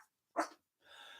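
A pet dog letting out a single short, excited bark or yip, quiet and close, followed by a brief soft huffing breath, with no speech around it.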